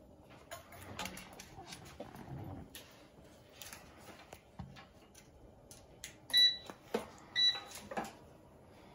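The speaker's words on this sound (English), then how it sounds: "You heard it gives it a couple of beeps." A Power AirFryer Pro gives a few short electronic power-on beeps near the end, clear and close, amid faint clicks and handling noises.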